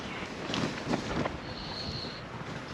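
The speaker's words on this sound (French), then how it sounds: "Je sais pas si t'entends le vent là qu'il y a là" Wind gusts buffet the microphone in a steady, moderately quiet rush in the Monegros desert, with a faint thin whine briefly in the background.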